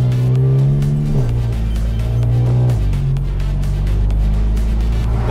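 A tuned car drives with its windows down, its engine droning loud and steady with gear-change pitch drops and road and wind noise rushing around it, close throughout.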